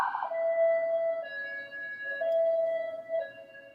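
An ambulance siren wails steadily with a rising and falling tone, moderately distant and fairly faint, with no other sound over it.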